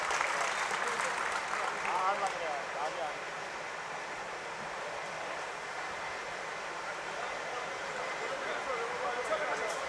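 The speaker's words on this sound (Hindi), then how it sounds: "दोनों नेताओं को सम्मानित करें जोरदार तालियों से।" A crowd at a Bahujan Samaj Party political rally in Sirsa, Haryana applauds two leaders being honoured, a steady, distant wash of clapping that stays fairly faint and even throughout.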